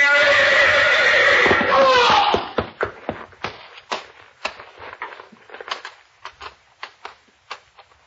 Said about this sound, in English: Watch out, Hauser. You're backing into the horse